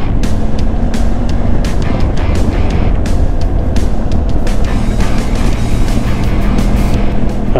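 A motorcycle engine drones loudly and continuously with wind buffeting while riding near the Tárcoles River, with no speech.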